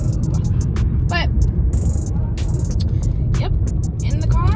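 Low road rumble inside a moving car, steady throughout, with bottles of water rattling and a person talking over it the whole time.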